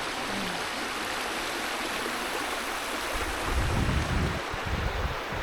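A Connecticut stream near a waterfall rushes in a constant, full hiss of flowing water, close and loud, with low wind buffeting swelling midway and no voices.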